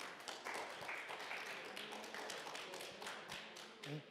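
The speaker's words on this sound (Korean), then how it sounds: "회장님께 박수 부탁드리겠습니다" Audience clapping for the chairman of Vietnam's K-Mart at a seminar of the World Korean Business Convention, a dense, steady burst of applause that fills the hall for a few seconds.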